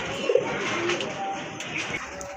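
Large Raj Golla pigeons coo softly amid a busy background of other birds at a pigeon market, with a few brief chirps cutting through and a faint voice in the distance.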